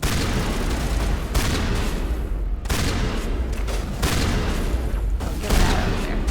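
Rockets and heavy weapons firing in a Mass Effect firefight, a dense continuous barrage of booms and blasts with repeated bursts roughly every second and a half, loud and unbroken throughout.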